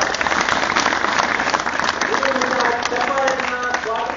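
An audience at an Independence Day speech breaks into dense, sustained applause, loud and close, many hands clapping steadily throughout with a voice briefly audible over it.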